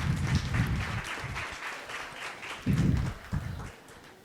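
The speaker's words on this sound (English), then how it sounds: "Please give me a round of warm of applause for Miss Sarah" Audience applause greeting keynote speaker Sarah Christensen at a business school event, a moderate, steady clapping that swells and dips over several seconds, with a louder burst near the end and low murmuring underneath.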